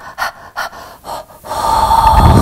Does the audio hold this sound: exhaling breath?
yes